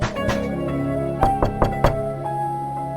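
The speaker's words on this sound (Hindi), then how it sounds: "रेखा अपने कमरे में बिस्तर पर सिमटी बैठी थी कि तभी उसके दरवाजे पर दस्तक हुई।" Four quick, hollow raps on a bedroom door at night sound over a sustained eerie music drone in a Hindi horror story, clustered within about half a second and fairly close.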